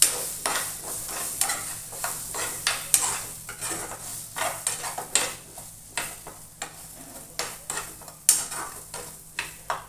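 A utensil stirs guava pieces in a frying pan for sabji, scraping in quick irregular strokes over a soft, steady sizzle, close and alone.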